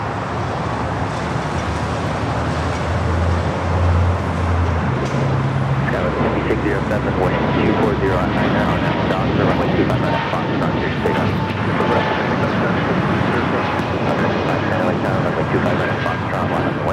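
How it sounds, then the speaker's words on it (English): Air Canada Airbus A220-300 rolling down the runway on takeoff at a busy airport, a steady broadband jet roar filling the whole stretch, with a voice talking over it. "we do have Air Canada, Airbus A220-300 now rolling down at 25 at right."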